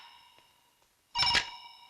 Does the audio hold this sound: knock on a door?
no